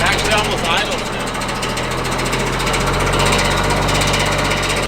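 Old 35-year-old grader's engine running rough as the throttle drops, a steady low diesel rumble that hunts and struggles to settle into idle, loud and close, with someone talking over it.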